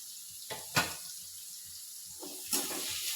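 A tap runs with a faint, steady trickle of water, broken by two brief louder splashes as the flow strikes something below, quiet and close, with no speaking.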